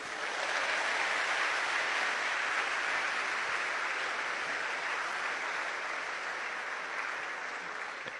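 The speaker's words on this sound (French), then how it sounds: "je demande qu'on l'applaudisse" A large audience applauds the First Lady at a formal gathering, a dense, continuous wash of clapping held at an even level throughout, with no voices over it.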